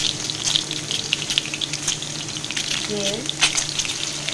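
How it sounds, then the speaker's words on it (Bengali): An egg fries in a pan over a home stove, with a steady broadband sizzle and crackle running throughout at close range; a brief scrape of stirring or a utensil comes about three seconds in, and a single word is spoken lightly over it. "ডিমটাকে ভালো করে ভেজে তুলে নেব"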